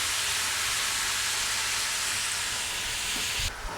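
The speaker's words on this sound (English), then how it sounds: "And you fry it until golden brown." Meat frying in a pan for Polish gołąbki, a loud continuous sizzle and hiss close up, steady throughout with a faint knock near the end.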